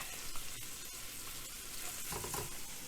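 Onions frying in a hot pan after browning a pork roast, a steady close sizzle with light crackle and occasional stirring scrapes throughout, no voices.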